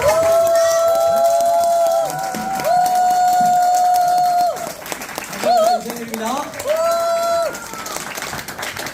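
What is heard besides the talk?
applause and cheering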